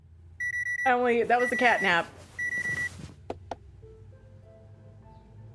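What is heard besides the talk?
alarm clock ringing in Nancy Drew video game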